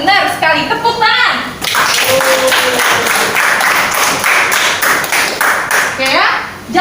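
Classroom pupils clapping their hands together in a loud, sustained burst of rhythmic claps, with a teacher's voice speaking before and after it.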